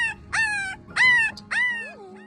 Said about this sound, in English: she noticed 3 newborn puppies